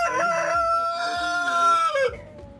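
A rooster crows loudly and close by in one long drawn-out call, with village chickens clucking in a coop and farmyard noise around it.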